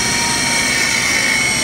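Toolroom machine spindle running at speed, a dense steady whine with broad hiss, loud and close with no audible change over the brief span.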